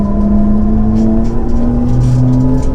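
An electric Hyundai RN22e race car runs on a circuit, giving a loud, steady whine that shifts slightly in pitch as it drives, with no voices.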